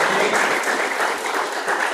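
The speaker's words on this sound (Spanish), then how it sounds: "Denle un aplauso al Señor" A church audience gives loud, steady applause in praise of the Lord, a dense burst of many hands clapping close and continuous throughout.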